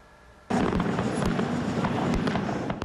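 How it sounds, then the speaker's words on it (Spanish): A Fourth of July fireworks show bursts into a dense, continuous barrage of crackling pops and booms after a quiet opening, loud and sustained with overlapping explosions. "varias ciudades festejaron con espectáculos de fuegos artificiales"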